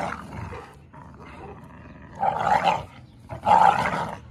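Two American bully dogs play together in a yard, giving low rumbling growls that swell into two louder, harsher growling bursts near the end, close up.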